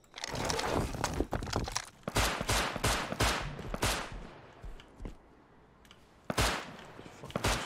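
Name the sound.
gunfire in a video game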